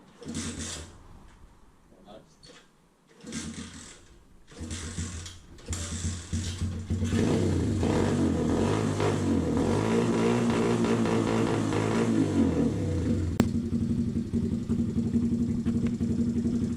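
A pit bike engine cranks with a few ratcheting kicks, then catches and runs at a steady rattly idle with a light mechanical ticking, up close.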